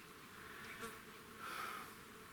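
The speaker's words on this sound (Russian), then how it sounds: "Мухоты море." Flies buzzing in a hot summer forest, a steady faint drone with a couple of brief louder passes as an insect comes close.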